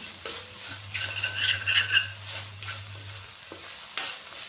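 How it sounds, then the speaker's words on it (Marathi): Vegetables stir-fried with soy sauce for a vegetable soup: steady sizzling with spoon scrapes and clinks against the pan, plus a low hum partway through, close and with no talking. "त्याला लगेच आपल्याला छान परतून घ्यायचं आहे मिक्स करून घ्यायचं आहे आपल्या सगळ्या व्हेजिटेबलमध्ये"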